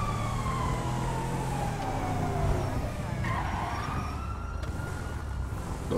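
Ambulance siren wailing in GTA V with the LSPDFR police mod, continuous sweeping tones over steady traffic and engine noise, loud and close throughout, with a tyre skid partway.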